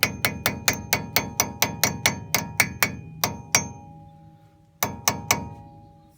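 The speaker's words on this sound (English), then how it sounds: "I'm going to go with hitting it with a hammer." Hammer strikes a metal wheel dust cap during a brake rotor and caliper replacement, a fast run of about fifteen sharp, ringing metallic blows, a pause, then three more close hits.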